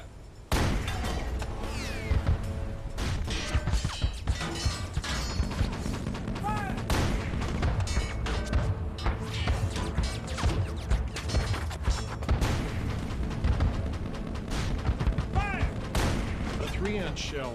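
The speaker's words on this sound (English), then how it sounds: "So they open fire first." Naval gunfire in a WW2 surface battle against the German U-boat U-515, heavy booms and cracking shots layered densely and continuously over loud battle noise and music, with a voice talking over it.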